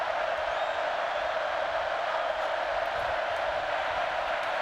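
Steady roar of a packed stadium crowd at a 2004 college football game between Oklahoma and Texas A&M, a loud continuous wash of voices with no distinct cheers or claps standing out.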